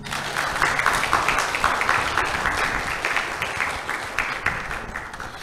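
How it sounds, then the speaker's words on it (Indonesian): A seated audience at an Islamic lecture event claps steadily for several seconds, a dense, even patter of applause without voices. "Beri tepuk tangan yang meriah untuk Ustadz Saroni"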